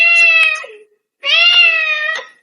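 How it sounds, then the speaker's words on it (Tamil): A cat gives two clear, close meows, each a drawn-out bright cry, separated by a short silent pause. "ஒரு பூனைங்க வந்து மியாவ் மியாவ் கத்துது"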